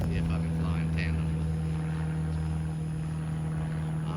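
An E-flite Draco radio-controlled plane flies with sound effects switched on, giving a steady droning hum with a constant tonal whine beneath it, mid-distance and fairly loud. Traces of a voice come through faintly over it.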